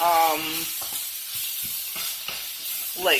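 Onion and spices frying in a pan while being stirred, a soft steady sizzle with occasional scraping strokes, close by and fairly quiet.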